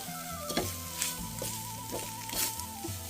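Spicy field rat stir-fried with vegetables and basil leaves in a pan makes a close, steady sizzle, with rhythmic scraping stirs of a spatula every half second or so, and no talking.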